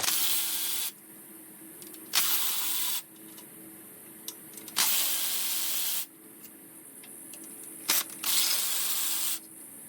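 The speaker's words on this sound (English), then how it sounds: "We need to release the 4 12mm nuts that hold the crossover pipe on." A wrench loosens the four 12mm nuts holding the crossover pipe on an old 3-litre engine from a Delica. Four close, harsh bursts of about a second each are separated by quiet pauses, with no talking.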